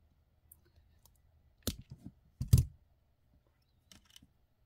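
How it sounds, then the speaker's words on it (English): Wire cutters snipping off excess beading wire while finishing a moss agate bead set: a few crisp, close clicks and snips in quick succession, then faint small clicks, in a quiet room. "And then we'll just cut off the excess."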